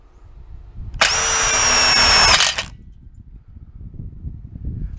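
A power drill runs a self-tapping screw into a wrought iron gate hinge in a single loud, steady whine of about a second and a half, close by and alone over faint outdoor background.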